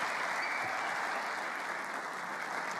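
Steady applause from the snooker crowd at the Tempodrom in Berlin during the German Masters, greeting a century break with an even, dense clapping that holds throughout the short stretch.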